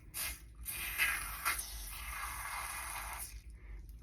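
Kevin Murphy Bodybuilder volumizing mousse hisses out of its can in a couple of close, soft bursts, then one steadier spray lasting a few seconds before stopping.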